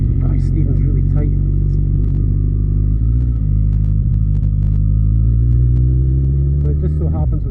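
A motorbike rides along a road near Elgin, its steady low engine drone loud and continuous throughout, with faint pitch shifts as it moves and a few brief clicks and knocks on top.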